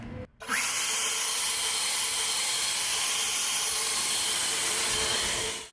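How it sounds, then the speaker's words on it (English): A blower clears grass clippings off a freshly edged lawn, starting with a brief sputter and then settling into a loud, steady rushing whoosh that holds constant until it cuts off abruptly at the end, with no voices. "make sure that you blow it off with your blower."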